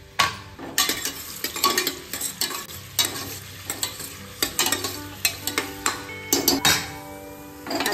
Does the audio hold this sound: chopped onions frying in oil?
yes